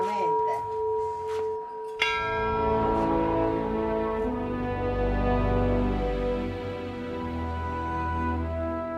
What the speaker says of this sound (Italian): E Susi, per ritornare a Marostica bisogna fare il rito, suonare la campana.